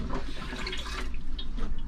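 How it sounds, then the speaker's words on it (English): A hand-pumped marine toilet aboard a boat gurgles and splashes as water fills and drains the bowl at once, a close, steady wet churning without speech. "the operation of this handle will fill and empty the bowl at the same time. Effectively, this is your flush."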